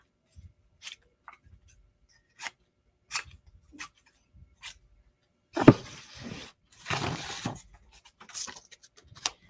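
Scissors snip paper strips into small squares in a quiet room, a series of sparse, crisp cuts with rustling paper handling in between.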